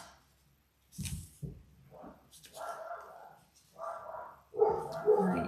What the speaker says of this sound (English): Doggy's barking.